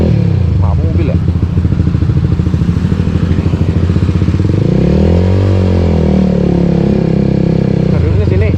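Motorcycle engine running steadily while riding on a road trip near Cisarua, Bogor, with a low continuous drone and a brief revving swell partway through, heard under occasional talk.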